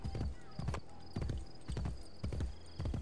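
Horse hooves clip-clop in a steady, brisk gallop rhythm in the Assassin's Creed Brotherhood video game, roughly a dozen close, hard thuds in quick pairs over a faint background.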